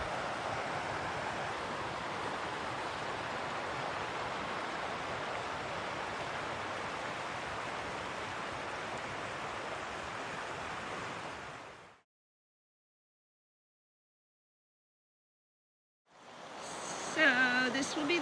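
Steady rushing water, a broad continuous roar of a fast-flowing mountain creek near Buddy Cove Gap, close and loud, cutting to silence before resuming near the end.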